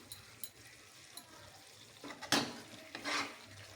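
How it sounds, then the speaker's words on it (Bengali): Soya chunks with soy sauce and Kashmiri chilli are tossed and mixed in a pan, giving faint sizzling, scattered utensil taps, and a couple of louder scraping stirs near the end. "ভালো করে একসাথে আমি এগুলোকে মিক্স করে দেবো।"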